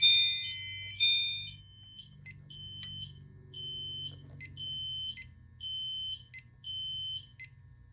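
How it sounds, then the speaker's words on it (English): A Notifier fire alarm sounds during a heat detector test, repeating sharp electronic beeps in an even pulsing rhythm after a couple of louder opening tones, over a low background hum, with no talking. "now for this heat detector"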